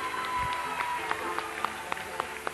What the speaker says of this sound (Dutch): Nog eens een hartelijk applaus alstublieft voor de muzieksterren van